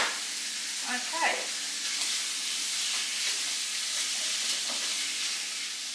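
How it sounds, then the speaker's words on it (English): Kidneys browning in a frying pan give a steady, close sizzle and crackling hiss that runs continuously, with a few faint stirring scrapes and a brief murmur of voice early on. "So we're just browning these off a bit."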